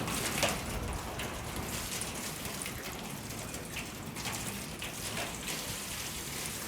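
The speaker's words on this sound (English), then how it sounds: "Whenever it rains really heavily" Heavy rain pours outdoors onto plants, a dense, even hiss of drops that holds loud and steady throughout with no voices.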